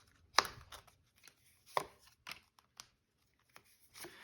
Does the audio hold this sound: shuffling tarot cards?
yes